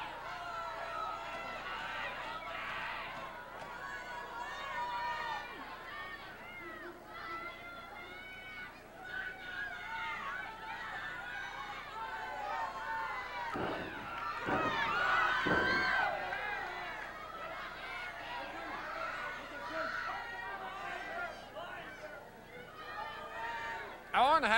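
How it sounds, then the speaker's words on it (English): A wrestling arena crowd at a Stampede Wrestling show cheers and urges on a wrestler, a continuous roar of voices that swells in the middle, heard under steady commentary. "The crowd exhorting him to do so."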